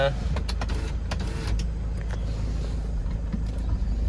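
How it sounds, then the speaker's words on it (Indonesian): Toyota Innova diesel on a test drive after a stalling and throttle-response fault, its engine and road noise a steady close rumble throughout, with a few brief clicks and knocks and some talk in the cabin. "Tes jalan dulu Innovanya, mudah-mudahan nggak mati-mati lagi."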